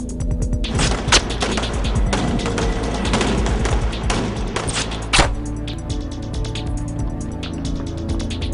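Gunfire in a movie scene: a string of sharp shots and thuds with two heavier bangs standing out, set against a rumbling action-scene background.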